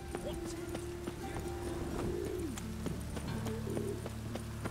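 Horse hooves clip-clop steadily on a road in The Witcher 3 video game, a close, rhythmic series of hoof strikes with occasional tonal game sounds and music underneath, no talk.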